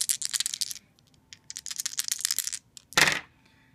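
Dice clatter across a tabletop during an X-Wing miniatures game, a long rattling roll of many small hits, then a pause, a few taps and a final louder clattering roll that settles quickly.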